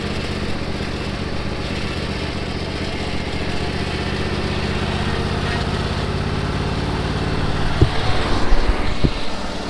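A riding lawn mower runs steadily close by with a constant engine drone, a few louder clunks and bumps toward the end.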